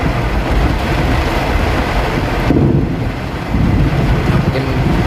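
Steady rain drums on a 2008 Honda CR-V with a 2.0 automatic engine while it drives a rough, damaged road, a loud continuous wash of rain and road noise with no talking.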